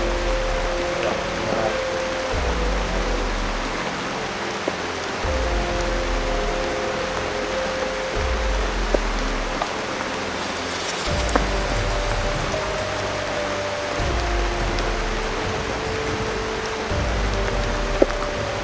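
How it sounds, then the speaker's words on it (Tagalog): Steady rain falls on a mountainside, a dense continuous hiss with low rumbling swells, the patter unbroken throughout and no voices. "maabutan ka ng ulan na wala kang May mapasilungan"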